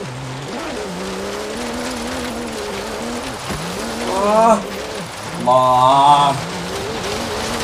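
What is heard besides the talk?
Porsche fishtailing while drifting off-road in Forza Horizon 3 video game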